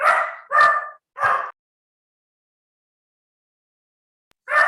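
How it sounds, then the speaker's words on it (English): A pet dog barks three times in quick succession, a pause of several seconds, then a single further bark, close and loud against a quiet room with no talking. "sorry, that's my dog."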